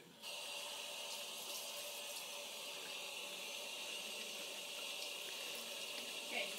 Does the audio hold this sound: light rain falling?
no